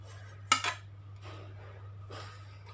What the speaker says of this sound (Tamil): அதில் பட்ரு போட்டு கொஞ்சம் நல்லா பட்ரு ஃபுல்லாக ஸ்ப்ரெட் பண்ணி விட்ருங்க.